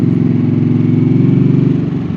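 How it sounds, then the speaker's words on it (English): A motorcycle fitted with an aftermarket exhaust runs steadily and loudly up close, a continuous low engine drone with a rapid pulsing beat throughout and no distinct pops standing out. "I've got the exhaust on and it pops like anything"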